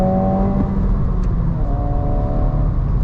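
Steady tire road noise heard from inside a moving affordable manual car, a loud continuous low rumble and whir with faint engine tones, unbroken across the short stretch with no voices.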